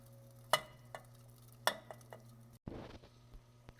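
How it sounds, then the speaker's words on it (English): Chocolate melting in a pan while being stirred for a gluten-free chocolate cake, giving a few sharp clinks of utensil against the pan, soft scraping and a faint low sizzle, alone and fairly quiet. "Slowly stir it so the heat gets dispersed."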